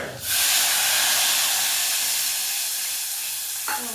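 Buttermilk poured into a hot pan of tempered spices with cumin and garlic, bursting into a loud, sudden sizzle that settles into a steady, slowly fading hiss, with a small clink near the end.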